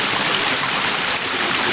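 A strong stream current near a cave mouth rushes steadily and loudly, a continuous close hiss of flowing water with no breaks.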